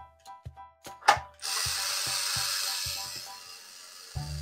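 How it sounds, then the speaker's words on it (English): A toy drill runs steadily as it drives a screw, the whir coming after a few sharp clicks and taps, with a brief knock as it stops. "And we can start screwing in our screw."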